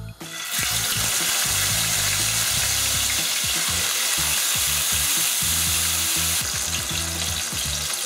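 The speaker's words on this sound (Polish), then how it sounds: "Rozgrzany olej, wkładam mięso, będę smażyła do momentu, jak zmieni kolor i pięknie zarumieni się z obu stron" Chicken breast goes into hot oil in a pan and fries with a loud, continuous sizzle and crackle close by, with no voices.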